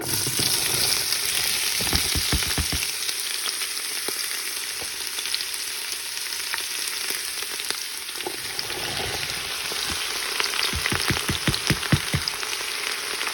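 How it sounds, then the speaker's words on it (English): Three pounds of sliced onions frying in olive oil in a stock pot over low to medium heat make a steady close sizzle, broken by bursts of rapid clicking scrapes as they are stirred. "I'm going to add those 3 pounds of sliced onions to it"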